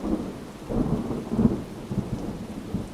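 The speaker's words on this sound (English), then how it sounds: "the rain started to fall in earnest" Steady rain falls during a thunderstorm while low rumbles of thunder swell and fade across the whole stretch, with no voices.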